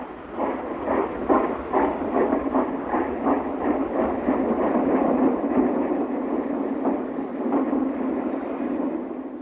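Collett 0-6-0 steam locomotive 4691 eases into the up sidings on the Somerset & Dorset line, with a steady run of rhythmic chuffs and rolling rail noise, moderately close and continuous.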